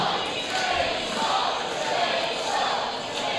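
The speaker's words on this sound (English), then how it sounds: "You can hear the crowd is excited to see Chainsaw Kitty perform." Excited crowd roaring and cheering at a robot combat tournament, a steady, loud wash of many voices throughout, with occasional thuds and a commentator speaking over it.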